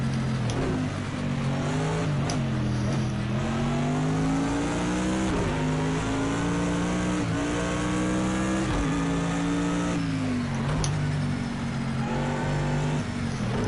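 A Bentley GT3 race car in the racing game Project Cars 2 roars loudly and continuously, its engine note climbing through several gears with brief dips at each shift.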